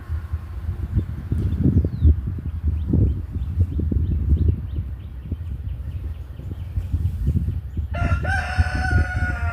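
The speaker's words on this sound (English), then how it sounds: "That's the star of the show back here is the rooster." A rooster crows loudly and close near the end, a drawn-out harmonic call after several seconds of rustling, thumping and clopping background noise, with no talking.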